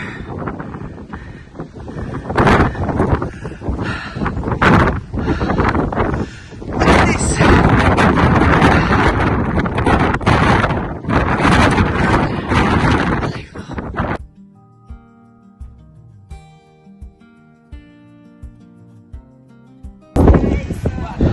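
Strong wind buffets the microphone on a hilltop between Pamplona and Cirauqui, Spain, in loud roaring gusts, then drops away to quieter moments before gusting hard again at the end.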